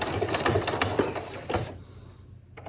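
A sewing machine stitches an X across a fabric-wrapped rope coil for a rope bowl, giving a rapid, close, rhythmic run of needle clatter that stops abruptly and leaves near silence.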